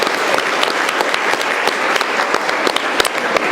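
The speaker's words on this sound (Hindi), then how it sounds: "एक बार प्रधानाध्यापक के लिए आप लोग ताली बजाइए, वो ताली कि वहां तक सुनाई पड़े" Audience clapping for a headmaster at a gathering, a dense, steady burst of many hands applauding together, loud and sustained throughout without pause.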